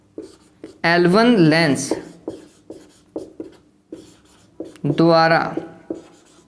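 Chalk or marker strokes on a board during a Hindi-language class 12 physics lecture on thin lens combinations, a series of short scratchy bursts between stretches of the lecturer's speech.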